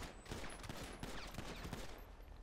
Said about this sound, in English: Cop just shot the shit out of me in my back.